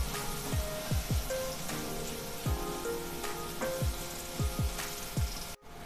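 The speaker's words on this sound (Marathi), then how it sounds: "कांदा आपण छान सोनेरी रंग येईपर्यंत परतून घेणार आहोत।" Chopped onion and green chili sauté in a hot pan for an Indian street-style egg dish, a soft steady sizzle broken by repeated scraping and tapping of a spatula against the pan, close by.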